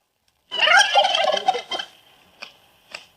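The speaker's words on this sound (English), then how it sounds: "A good flock of turkeys, 4 hens, 2 toms" Homestead turkeys, a flock of hens and toms, gobble loudly and close by in a rapid burst lasting over a second, followed by a few shorter fading calls and quiet gaps.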